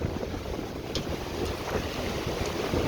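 Strong gusty wind roars steadily outdoors near a burning fire, blowing its embers about, with rumbling buffeting against the microphone throughout and no voices.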